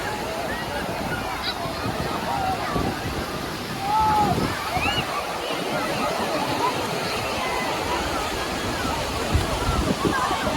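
Sea waves wash in continuously at Juhu Beach, Mumbai, with a broad hiss of surf and some wind buffeting the microphone. Faint voices and beach bustle sit in the background.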